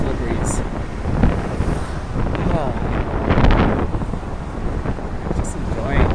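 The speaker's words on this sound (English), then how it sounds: "Nice cool breeze." A cool outdoor breeze blows across a walkway beside a bridge, a steady rumbling gusting wind that buffets the microphone, rising and falling slightly throughout.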